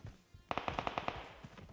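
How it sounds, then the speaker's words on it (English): Gunfire in the battle royale game PUBG: a rapid automatic burst of about eight evenly spaced shots sounds at moderate distance, then some fainter scattered pops over a steady background hiss. "People shooting"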